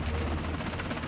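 A military rescue helicopter hovers during a hoist operation to bring a survivor aboard. Its rotor and engine give a steady, close drone with a pulsing thump that lasts only a moment.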